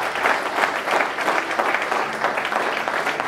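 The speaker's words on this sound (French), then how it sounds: "Tu acclames très fort pour le Seigneur" A church congregation in Paris applauds loudly and steadily, dense clapping from many hands in a continuous, energetic burst.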